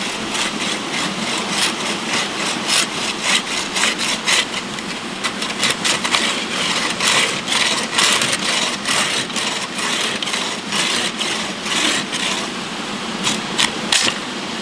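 Hand saw cutting firewood at a tent camp, rapid rhythmic rasping strokes repeating steadily and close up, with no talking.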